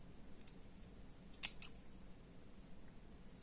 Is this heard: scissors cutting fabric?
yes